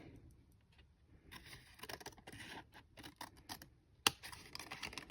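Scissors snipping through paper while cutting out a junk journal envelope pocket, a series of close, irregular cuts and scratchy rustles with a sharper snip near the end.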